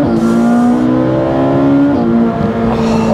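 A Ferrari 458 Speciale V8 pulls hard through the gears, its loud high-pitched engine note climbing steadily, dipping briefly at a shift near two seconds, then rising again, heard close from inside the car.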